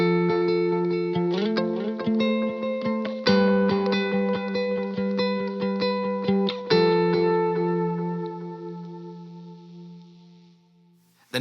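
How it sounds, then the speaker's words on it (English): Electric guitar through a Line 6 Helix with light reverb and quarter-note delay, clean picked notes and chord stabs repeating in rhythmic echoes, each phrase decaying before the next, ending in a long fading tail. "The next snapshot that I have here is my light reverb and delay snapshot"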